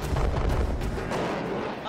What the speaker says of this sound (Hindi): अब ताइवान के तोप गोले उगल रहे हैं।